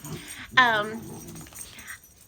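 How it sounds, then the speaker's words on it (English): A dog gives a short bark and whimpering yelp under a person's scolding talk, fairly close in a home setting. "Hey guys, no barking, no fighting, no."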